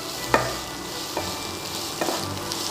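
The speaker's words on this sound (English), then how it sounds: "Roast it well. Let the onion turn golden brown." Red and white onions fry in a pan with a steady, close sizzle, broken by a few clicks and scrapes from stirring.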